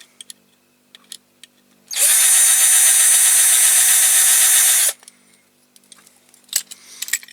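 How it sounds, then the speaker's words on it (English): A power drill whines loudly and steadily for about three seconds, close by, drilling out a tough rivet on a Corgi Major Mack container truck model, with faint clicks and handling noises before and after. "Start off with a smaller drill."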